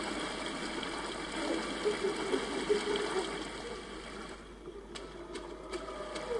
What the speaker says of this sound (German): Wasser tritt langsam in die Kammer ein.